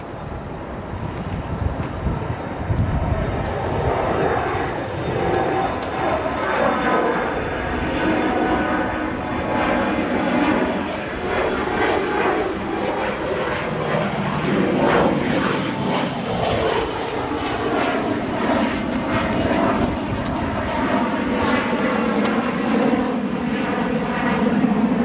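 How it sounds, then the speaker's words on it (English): A United Airlines Airbus A319 jet arriving at O'Hare Airport makes a loud, continuous engine roar that swells and shifts as it passes, with some wind noise over the microphone and no talk. "it is an Airbus A319 operated by United Airlines, flight 771, arriving in from Nashville"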